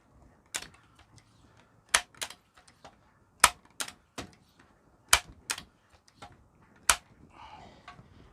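A Crosman Legacy 1000 air rifle being pumped: several sharp, loud clicking strokes spaced unevenly across the stretch, alone with no talk, ending in a faint softer rustle.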